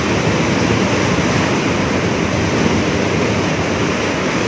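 Ocean surf at Loji Beach in Sukabumi, a loud, continuous broadband roar of waves mixed with wind rush against the microphone, with no voices.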